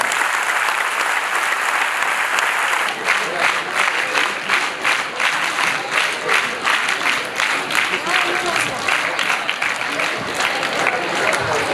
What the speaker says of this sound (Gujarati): બધા એક સાથે તાળી પાડીને આ ટીમને અભિનંદન આપો